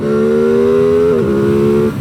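A 2025 Aprilia Tuono 660 Factory motorcycle engine revs hard and close, a loud steady high-pitched drone that climbs, then drops sharply as a gear changes and carries on.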